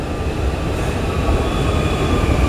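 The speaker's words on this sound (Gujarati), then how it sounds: "જો આવી, જો આવ્યો ભાઈ ટ્રેન" A train arriving at a station rumbles steadily nearby, a heavy continuous roar of wheels on rails with a faint high metallic whine over it, slowly growing louder.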